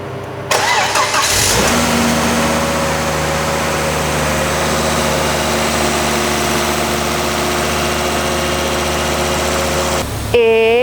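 A rebuilt car engine cranks and catches, then settles into a loud, steady idle with a continuous low hum for about nine seconds before a brief change at the end.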